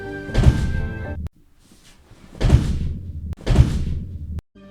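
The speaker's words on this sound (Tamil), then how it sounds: "அண்ணே தெரிஞ்சு நான் கதவு உடைக்கேன்" A door being broken open in a Tamil cartoon: three heavy, loud thudding blows with short pauses between them, close up, and no voices.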